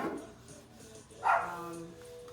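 A single bark from a dog somewhere nearby during indoor furniture whitewashing, one brief sharp burst midway against a quiet room.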